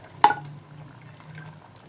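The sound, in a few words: adding tomatoes to simmering chicken potato curry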